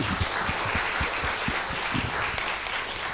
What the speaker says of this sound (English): Let's give a big round of applause to Mr. Ngurah Agus Sanjaya today.